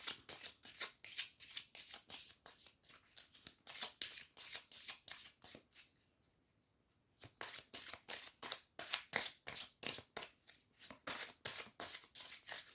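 Tarot cards are shuffled in quick rhythmic riffles, a run of crisp rapid flutters that pauses for a brief break and then resumes, close and fairly quiet with no voices.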